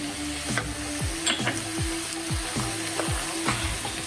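Ground pepper, mixed herbs and cumin powder go into a frying vegetable pie filling, which sizzles steadily while a utensil stirs and scrapes the pan in a rhythmic series of close, fairly loud strokes.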